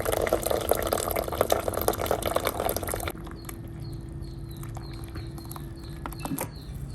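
Hot water poured over chillies in a home kitchen makes a loud, dense splashing for about three seconds, then gives way to quieter, scattered drips.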